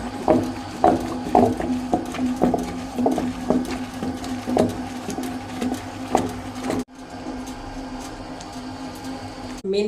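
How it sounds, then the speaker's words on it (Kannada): A wet grinder grinds masala for fish curry, a close, steady mechanical hum with a low drone and a rhythmic knocking of the stone that keeps repeating, briefly cutting out before carrying on. "ಸಾರಿಗೆ ಮಸಾಲ ಗ್ರೈಂಡ್ ಆಗ್ತಾ ಇದೆ"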